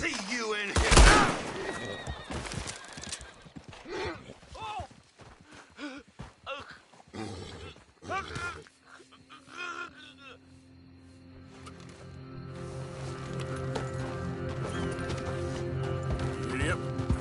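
A horse in Red Dead Redemption 2 gives a loud whinny near the start, followed by scattered hoof clops and movement sounds, then a steady low ambient hum builds toward the end.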